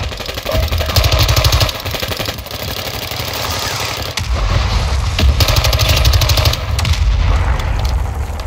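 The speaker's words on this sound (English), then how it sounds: "Requesting fire mission! Target marked! Copy your mark. Order strike inbound." Artillery strike in the video game Call of Duty Warzone 2.0: loud, dense rumbling barrage of blasts and rapid gunfire-like bursts, continuous throughout with a brief dip midway.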